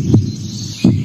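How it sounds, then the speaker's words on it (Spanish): A heartbeat sound effect with two deep, thumping low beats under a steady low hum, close and fairly loud, spaced just under a second apart. "Es el latido del Parque Ambiental Corazón de Pance"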